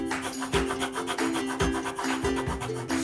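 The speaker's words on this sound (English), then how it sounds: "Now let's rub off the unrequired lines." An eraser rubs pencil lines off paper on a cartoon drawing, making close, steady back-and-forth scrubbing strokes in an even rhythm of about two per second.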